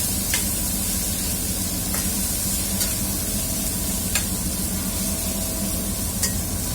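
Onions sautéing in a pan for mung bean soup, a steady close sizzle and hiss with a few sharp scrape and stir ticks from the utensil at intervals, no voices.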